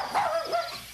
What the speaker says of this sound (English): this little dog has a high-pitched voice